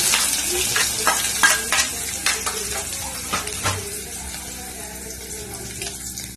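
Sizzling of onions frying in oil, with scraping stirs and clatter of utensils in a pan, fairly close and loud, fading slightly toward the end.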